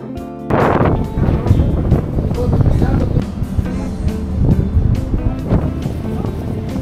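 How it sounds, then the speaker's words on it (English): Boat engine rumble as the boat leaves port in Oman mixes with gusting wind buffeting the microphone and splashing water, loud and continuous, with faint voices in the background. "The boat is finally moving from the port."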